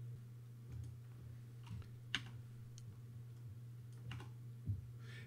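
Computer keyboard being typed on while lab colour values are entered into spot-colour software: a sparse run of light, separate key clicks over a steady low electrical hum, with no talking.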